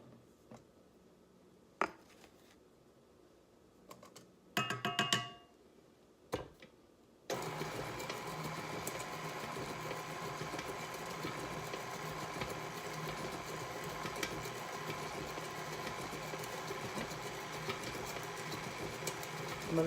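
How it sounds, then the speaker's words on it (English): After a few quiet seconds of clicks and handling knocks, an electric mixer on low switches on to mix carrot cake batter. It keeps up a steady, moderate whirring hum until the end. "I'm going to turn this back on low, and I'm going to slowly add the flour mixture to this"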